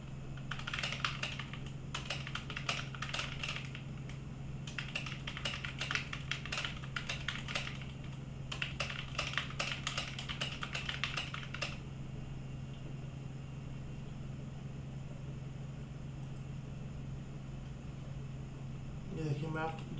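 Rapid clattering keystrokes on a computer keyboard fitted with a handmade wrist rest, typed in quick bursts with short pauses over a steady fan or air-conditioner hum, then stopping after about twelve seconds.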